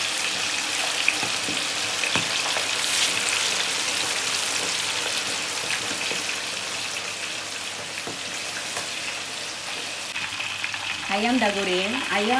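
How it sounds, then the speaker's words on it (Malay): Chicken pieces frying in hot oil for ayam masak merah, a steady crackling sizzle running throughout at close range, with brief stirring or scraping near the end. "Minyak sudah panas, kita goreng ayam dulu."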